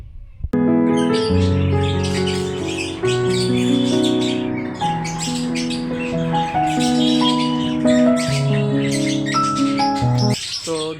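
Lovebirds at a bird farm chirp and tweet in a loud, dense chorus of overlapping calls close by, without pause.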